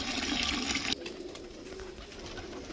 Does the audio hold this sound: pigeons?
yes